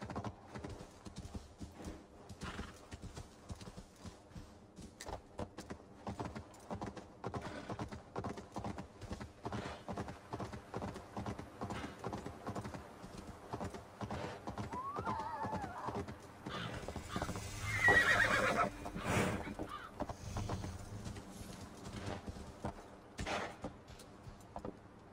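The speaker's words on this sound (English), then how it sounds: "This horse is booking it" Rapid rhythmic hoofbeats of a galloping horse continue throughout, with a louder rush of movement midway.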